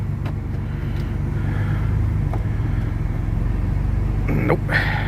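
A 1957 Chevy 210 engine runs after a cold start, a steady low rumbling idle with a regular pulse, close and continuous, with a brief rise in revs near the end.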